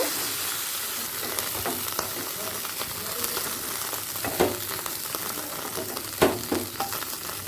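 Constant sizzling and crackling of food frying in a covered pan, with a few scattered knocks and scrapes from stirring.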